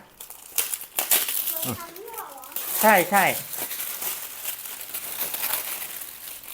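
Plastic packaging of a folding barbecue grill table set crinkles and rustles up close as it is pulled open, with people speaking briefly in Thai over the crackling.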